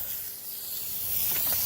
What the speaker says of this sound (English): I have a hose right here, and I spray off my boots to get the big chunks off